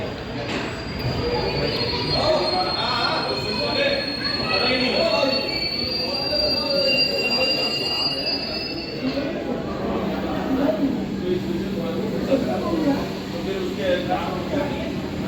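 A train arriving from Howrah rolls into Dehradun railway station with loud, sustained metallic wheel squeals over rumbling carriages, then a steady low hum as it slows; a voice talks in Hindi over the noise.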